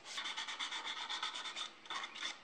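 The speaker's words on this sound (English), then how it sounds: "Then I did some hand sanding just to remove the sharp edges." Hand sanding on a wooden bandsaw box makes a close, quiet rasping scrub, a run of short rhythmic strokes followed by a brief pause and a few more passes.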